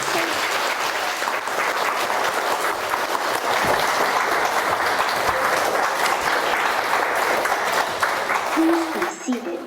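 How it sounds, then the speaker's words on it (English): A standing audience gives a loud, sustained round of applause welcoming Khenpo Sodargye to the stage, a dense wash of clapping that carries on for several seconds before tapering off at the end. "Let us give a warm round of applause to welcome the compassionate Khenpo Sodargye to the stage"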